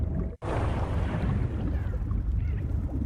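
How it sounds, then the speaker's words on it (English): A body plunges into water for game foley, a brief dropout then a loud broadband splash that settles into continuous churning and bubbling water, close and alone. "So we have the jumping into the water."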